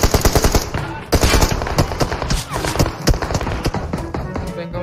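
Rapid bursts of automatic gunfire in a battle royale video game, loud and dense with overlapping shots throughout, with a player's voice talking underneath.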